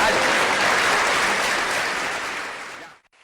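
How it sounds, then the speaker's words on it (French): Audience applause at a French-language comedy show, loud, dense clapping from a crowd that holds steady for nearly three seconds and then cuts off abruptly into silence. "Allez les Algériens, vous applaudissez les Français"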